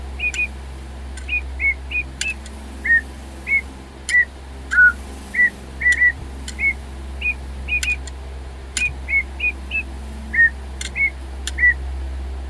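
A battery-powered digital toy bird on low batteries sings a repeated series of short, thin chirps and whistles, evenly spaced over a faint steady background hum, with sharp clicks between some notes.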